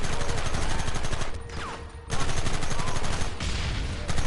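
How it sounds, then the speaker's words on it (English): Rapid Gatling gun fire in Red Dead Redemption, a loud continuous rattling burst that briefly drops out before resuming, dense and close throughout. "Motherfuckers riding into battle with a damn Gatling gun."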